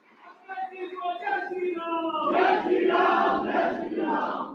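Crowd at a BJP Foundation Day event in Delhi, marking JP Nadda's address, cheering and shouting in a loud, sustained wave of massed voices that swells after a couple of seconds, with no single speaker standing out.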